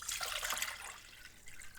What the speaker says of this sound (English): we need to pour 750 cc of water into a pot and add sliced lime and turmeric